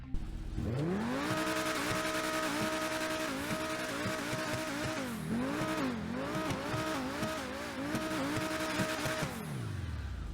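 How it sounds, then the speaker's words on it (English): Progen T20 supercar engine in GTA Online starting up and revving outside, the loud tone climbing and dipping through several throttle blips before settling back and shutting off near the end, with no talking over it. "Let's take a listen to what the Progen T20 actually sounds like"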